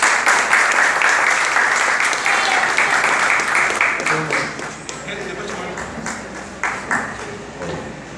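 Audience applause for a writer of children's and young-adult books at a writers' gathering in the Shopping Grande Rio mall, São João de Meriti: a dense burst of clapping that thins out after a few seconds, with some voices mixed in.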